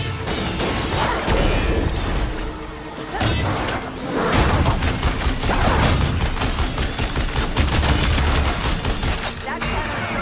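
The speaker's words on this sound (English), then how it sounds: "Pick up that weapon and start firing!" Heavy arena weapon firing in the video game Horizon Forbidden West, dense bursts of booming gunfire and crashing impacts with whooshes, loud and nearly continuous under game voices shouting.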